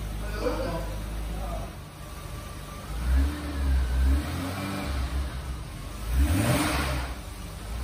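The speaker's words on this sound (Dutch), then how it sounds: "dat blijft toch een heel leuk moment als een auto dan na jaren stilgestaan te hebben toch vrij vlot weer aanslaat" A car engine that has stood unused for years catches and revs in a few rising bursts over a low steady rumble, fairly loud and close, with a voice talking over it.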